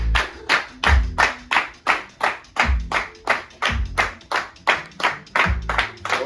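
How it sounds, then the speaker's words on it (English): Steady hand clapping in even eighth notes, a fast regular run of sharp claps loud and close, with a low drum-like beat thumping underneath at intervals. "Clap eighth notes."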